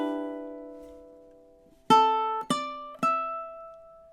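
A ukulele plays measure 14 of a theme tune: a sustained note rings out and decays, then three plucked notes follow in a quick, even rhythm. The sound is close and clean, with no talk.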